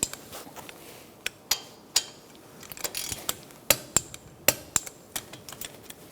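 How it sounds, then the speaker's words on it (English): Sharp metallic clicks from a torque wrench with a 7mm Allen socket tightening the brake caliper slide bolts on a 2012-2019 Fiat 500, sounding as a dozen or so irregular close ratchet snaps with brief pauses between them. "Let's torque these to 20 foot-pounds. We're using a 7mm Allen wrench socket."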